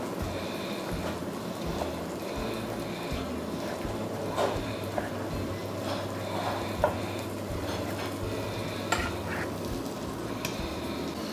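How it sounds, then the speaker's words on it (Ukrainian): Onion fries in a pan with a steady soft sizzle, while faint stirring scrapes and light clinks come and go throughout. "Цибуля у нас обсмажилась."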